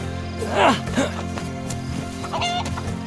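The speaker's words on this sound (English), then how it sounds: "I do come across this chicken" Chicken clucking in the video game DayZ, a few sharp clucks early on and then a quieter squawk, heard over a steady game background hum with voice-like sounds mixed in.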